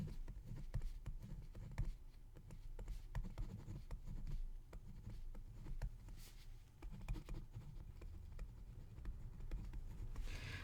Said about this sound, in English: Let me write that out in the note.